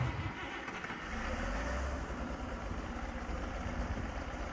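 A tractor engine idles steadily in Farming Simulator 22, a low, even mid-pitched rumble held at moderate level with no talk over it.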